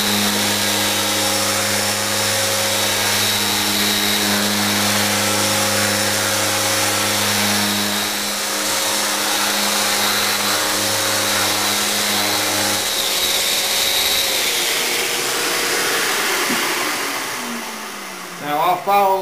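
A random orbit sander with P320 sandpaper works veneer on a sideboard carcase, giving a loud, steady motor whir with a droning hum that shifts partway through, then winds down near the end.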